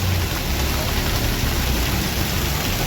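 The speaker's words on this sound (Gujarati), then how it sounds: "કડાકા ભડાકા થાય છે અત્યારે વરસાદના અવાજ આવતો હોય છે" Steady rain pours down as a dense, even hiss that holds at a constant level throughout. No distinct thunderclap stands out, and no one speaks.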